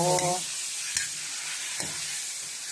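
Adobo being stirred in a pan gives a steady frying sizzle under a brief scraping stir near the start, with short utensil clacks later on.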